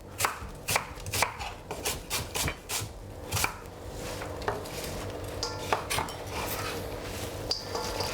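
A knife chops a medium white onion finely on a cutting board, with sharp, close knocks in quick bursts at first that settle into a steadier, lighter tapping, and no talking.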